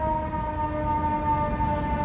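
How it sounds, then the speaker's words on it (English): An ambulance siren as the vehicle turns a downtown Chicago street corner at Washington and Michigan, a steady wailing tone held over rumbling city traffic for the whole stretch. "We got an ambulance turning the corner there at Washington and Michigan there."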